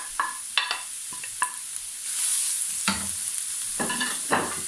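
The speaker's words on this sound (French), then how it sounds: "Alors on va mélanger gentiment." Carrot and onion frying in olive oil as a spoon stirs them, with a few sharp scrapes and taps against the pan over a brief swell of sizzling, close up and without voices.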